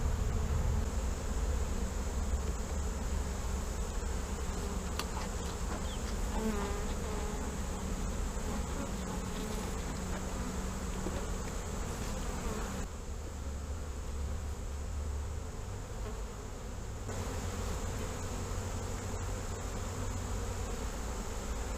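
Honey bees swarm around a hive frame pulled during a honey harvest, producing a dense, continuous buzzing drone close to the listener, with no talking.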